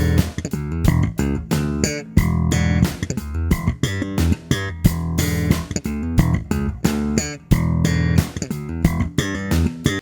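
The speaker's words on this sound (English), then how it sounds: "the bass riff sounds like this" Slap bass riff on an electric bass, taught as an advanced slap technique exercise: rapid percussive plucked and popped notes in a busy syncopated rhythm, loud and upfront with no talking.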